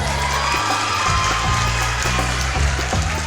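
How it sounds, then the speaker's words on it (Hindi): Studio audience applauding and cheering for actress Saima Qureshi on an Eid television show, a steady dense wash of clapping held at even loudness throughout. "बहुत सारी तालियां इनके लिए।"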